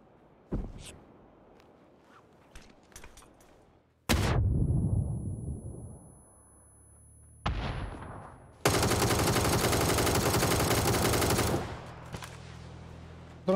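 Automatic rifle fire from a Galil ACE 32 in PUBG rattles out in sharp bursts, with a single loud shot early on, a short volley midway and a long sustained spray near the end, fairly close and loud.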